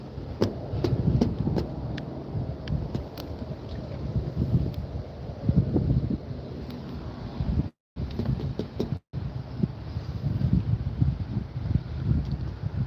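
Wind buffets a microphone outdoors in Lake County, California, near a fast-growing wildfire, making a steady low rumbling roar with gusty swells and two brief dropouts.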